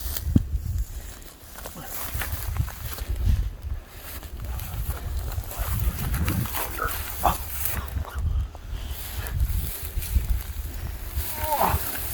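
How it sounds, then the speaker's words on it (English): Wild boar with large tusks grunting during a Texas hog hunt, low rough grunts and snorts close by over rustling brush and wind, with people's voices faintly mixed in. "Big old boar with some big old tusks."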